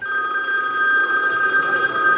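An old-style telephone bell rings steadily and loudly through the whole moment, a continuous bright trill without pauses.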